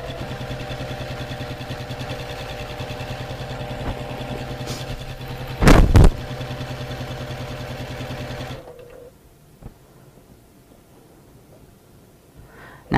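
A sewing machine runs steadily through straight-line quilting, a constant mechanical hum with a brief louder burst midway, then it stops and near-silence follows.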